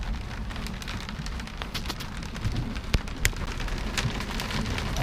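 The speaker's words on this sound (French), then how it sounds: "je suis entouré de grêle" Hail falling on a sailboat during a storm in the Bay of Biscay, with 27-knot winds: a dense, steady patter of small impacts, broken by a couple of sharper, louder hits.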